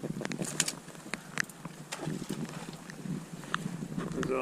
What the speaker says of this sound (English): Hasn't stopped raining all day.